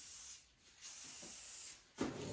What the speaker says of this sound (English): I typically use Rust-Oleum brand paints, spray paints, because they work really well with epoxy.